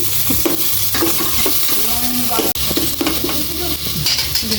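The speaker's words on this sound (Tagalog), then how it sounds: "Gisa-gisa na pong maigi" Chopped onion and tomato sizzle and fry together in a pan while a utensil stirs them, giving steady close frying noise broken by scraping strokes and a brief dropout.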